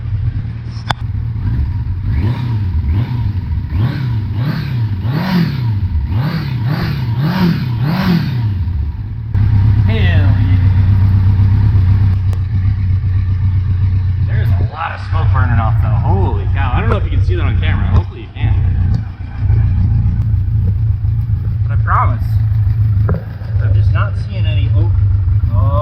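A Kawasaki Concours motorcycle engine, leaking coolant, idles as it warms up. Its pitch wavers with a few blips of the throttle before it settles into a steady, loud, close hum, with voices talking over it.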